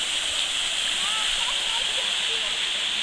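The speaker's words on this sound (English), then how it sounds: "The waterfall. It's beautiful, ne?" Wilge River waterfall at Waterfall Farm outside Van Reenen in the Free State: a steady, loud rushing roar of falling water that fills the whole stretch without a break.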